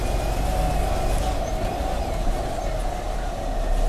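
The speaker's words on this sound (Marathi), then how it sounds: "स्वारगेट एस स्टँडवरून निघाली आपली गाडी" An MSRTC bus pulls out of Swargate bus stand, its engine giving a steady, loud, low drone with a constant rumble and no voices over it.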